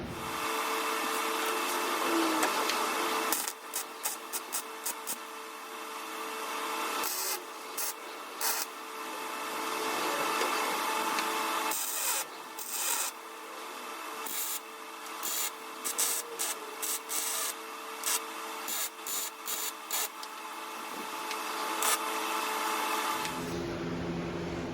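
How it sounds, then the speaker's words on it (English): MIG tack welds on a rust repair patch panel of a 1988 Ford F150 4x4: a series of short and longer crackling, hissing buzzes separated by brief pauses, close and steady, with no talk. "We'll throw some tacks on it and then we'll weld it up."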